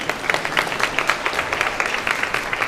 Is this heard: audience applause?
yes